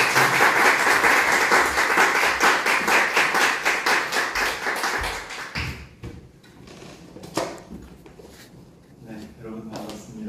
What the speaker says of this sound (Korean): 우리 정호진 목사님 나오실 때 우리 큰 박수로